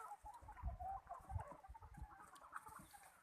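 Domestic chickens clucking on a farm, a series of soft, irregular clucks and low murmurs heard fairly close but quiet, with no people talking.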